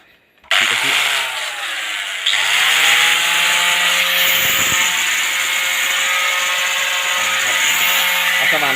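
An angle grinder starts up and runs loud and steady with a high whine and gritty roar, dipping briefly before continuing nonstop.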